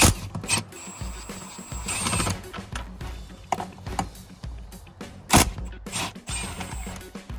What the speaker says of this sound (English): these are all just 14mm bolts, so just rattle them out